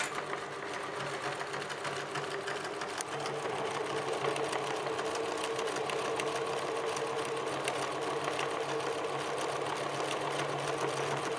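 An electric sewing machine stitches continuously while guiding fabric around a circular path, a steady rapid mechanical whir and needle chatter held at an even, close level for the whole stretch without pauses.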